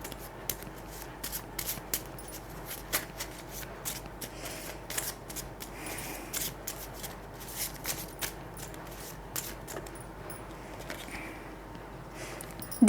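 Tarot cards shuffled by hand, a steady close riffle of rapid papery flicks and slides running the whole time, with a louder handling bump at the very end.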